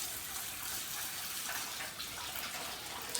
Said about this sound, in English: use hot tap water to warm the inside of the thermos